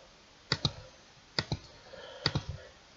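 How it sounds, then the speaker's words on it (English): A computer mouse clicks in pairs and small bursts, close and crisp, with short pauses between the groups and no talk over it. "sorry about the clicking guys, I do apologise"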